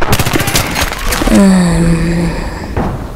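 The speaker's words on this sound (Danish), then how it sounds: "Jeg står og skyder" Bursts of rapid gunfire in the video game Battlefield 3 crackle loudly in the first part, followed by a lingering ringing tone and a last thump.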